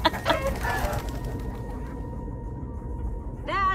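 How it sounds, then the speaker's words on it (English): Cartoonish clucking chickens in the Minecraft Story Mode video game, a burst of clucks and squawks at the start over a steady game background, with a short rising bird call near the end. "it appears we are in the land of chickens that are indeed the size of zombies"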